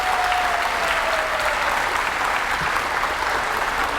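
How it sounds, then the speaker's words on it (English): Sustained audience applause for a student at a Sudlersville Middle School 8th grade advancement ceremony, held in a gym: a dense, steady wash of many hands clapping at even loudness throughout. "So a round of applause for you"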